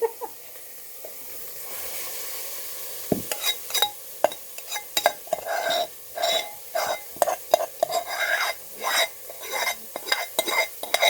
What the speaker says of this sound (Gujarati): હવે આપણે એને હાણસીથી પકડી અને મસ્ત હલાવી